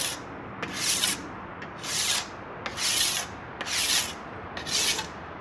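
A rusty metal blade edge being sharpened, with five or six evenly spaced rasping strokes that grind close and loud, separated by short pauses.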